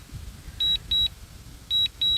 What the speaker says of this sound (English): And there is no way to turn the beeping down.